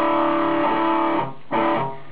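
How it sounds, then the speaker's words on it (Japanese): Distorted electric guitar from a Zoom G2.1u multi-effects pedal, a couple of held, saturated chords that cut off briefly and return, loud and close with no talking. "歪みが欲しいなと思ったら歪みを選択して"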